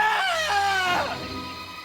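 A high, wavering scream rises and falls a few times, loud and near, then fades into background noise.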